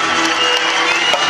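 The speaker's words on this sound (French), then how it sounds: "Applaudissez, encouragez votre chevalier, le chevalier blanc." A crowd at a historical reenactment of knights' combat in Salon de Provence claps and cheers loudly, a dense wash of applause and shouts filling the whole short burst.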